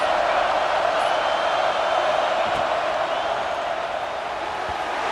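A stadium crowd roars steadily in EA Sports College Football 26, a dense, continuous wash of cheering and noise at a constant loud level, with no distinct pauses.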